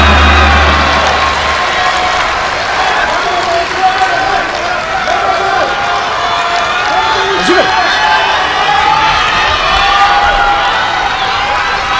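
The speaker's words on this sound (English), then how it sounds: "Crowd really egging Udaka on." A judo crowd at the Tokyo Grand Slam cheers and shouts encouragement for Udaka during a ground-work exchange. The loud, steady roar fills the whole clip, with a commentator's voice talking over it.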